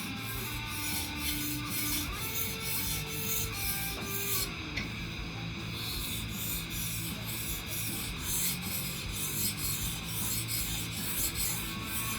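Knife blade sharpened by hand on an abrasive, a continuous rhythmic rasping rub with repeated strokes, close and steady without talk.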